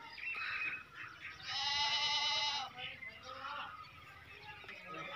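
A male Makhi Cheeni goat at a livestock market gives one loud, drawn-out bleat in the middle, with people talking nearby throughout.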